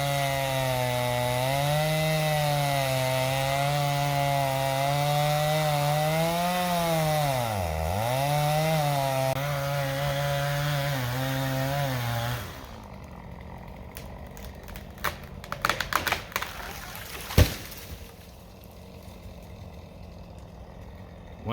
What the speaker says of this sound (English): He's gonna cut down those dead trees right there.